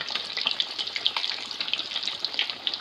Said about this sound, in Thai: อันนี้ก็จะได้ทอดปลานิ่มเนาะไปกิน